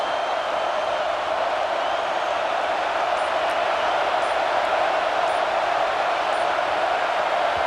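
A football stadium crowd roars steadily as a dense, loud wash of cheering and noise that persists without a break.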